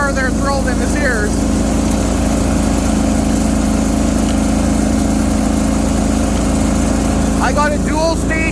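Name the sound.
Bolens 1600H garden tractor engine, 20HP Briggs, in deep snow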